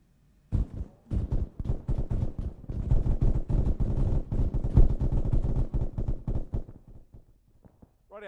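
Rapid bursts of gunfire ring out in close trench combat, with loud, dense volleys of rifle shots cracking continuously for several seconds before thinning out.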